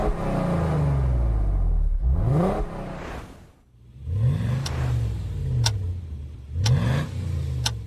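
Tuned Nissan GT-R engine revving hard in short repeated bursts, each climbing rise followed by sharp crackles and pops as the revs drop, loud and close with no voices.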